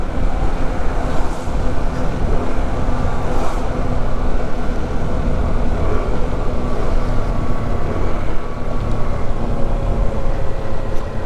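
Motorcycles ride along the foggy Marilaque mountain road, a loud, continuous engine drone mixed with wind roar and road noise, steady and close without a break.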